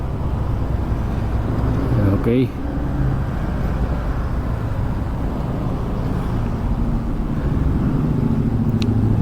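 Busy road traffic heard from a motorcycle on a congested city street, a continuous loud rumble of engines and passing vehicles, with someone speaking briefly over it.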